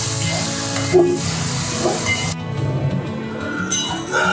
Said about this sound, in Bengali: সে পেঁয়াজ কুচিটাকে এখন ভেজে নেব এর মধ্যে